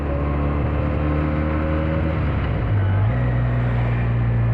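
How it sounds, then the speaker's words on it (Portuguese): A Benelli 302 motorcycle engine and exhaust drone steadily up close during a test ride, then drop in pitch and rise again as the throttle shifts. "o barulho desta moto é"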